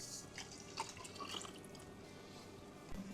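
Mead, a clear 15% honey wine aged four months, pouring from a vessel with a thin trickling, dripping liquid sound at close range, fairly faint and steady.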